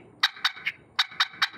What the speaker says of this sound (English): now this is a lighter spring, so I'm going to point it down so that gravity assists the paddle to go back down